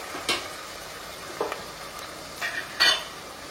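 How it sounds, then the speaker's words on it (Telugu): Chopped tomatoes fry in a pan over already-browned onions for chicken dum biryani: a soft, steady sizzle broken by four or five scraping, clinking spoon stirs, close by with no talking. "ఇప్పుడు టమాటాలు ఫ్రై అయ్యేటప్పుడే"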